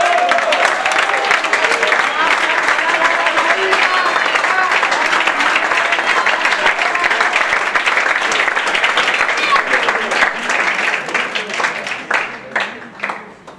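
A seated audience at a presentation-skills training session breaks into loud, dense applause that holds steady for several seconds before thinning into scattered claps and fading out.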